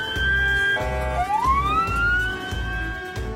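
An ambulance siren wails close and loud, its rising and falling tone sweeping steadily over a rhythmic, pulsing low hum, with no talking.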